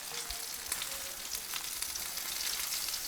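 Thick tomato puree sauce for shakshouka cooking in a pan: a steady, soft bubbling sizzle with faint crackles, continuous and fairly quiet throughout, no voices.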